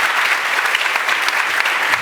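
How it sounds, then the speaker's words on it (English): An audience at a deep learning meetup claps loudly and continuously for a panel of speakers, a close, dense wash of applause with no voices over it. "Applause to all our speakers, Moshe Vardi, Peter Burgerthofer."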